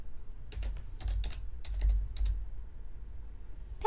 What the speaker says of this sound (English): So I'm going to go ahead and type it in.